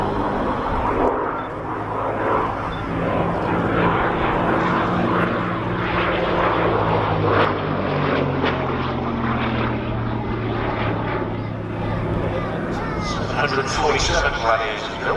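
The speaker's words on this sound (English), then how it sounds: "The RAF's last biplane flighter from 1937, the Gloucester Gladiator." A 1937 Gloster Gladiator RAF biplane fighter displaying at a vintage airshow, its piston engine and propeller droning loudly and steadily as it passes and shifts in pitch, with a commentator talking over it throughout.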